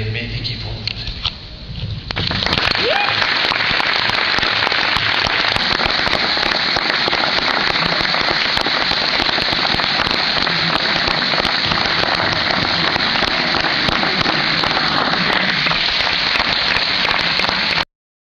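Loud, steady applause from a large audience, a dense wash of clapping that starts abruptly after a quieter spoken opening and continues evenly until it cuts off.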